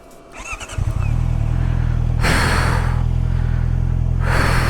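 A 2021 Honda CBR650R motorcycle engine cranks briefly and fires, then settles into a loud, steady idle with two sharp throttle blips.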